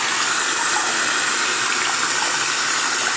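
Running water pours steadily and loudly over Fluval G Series canister filter carbon being rinsed, a continuous broadband gush that stays even for the whole stretch with no talk over it.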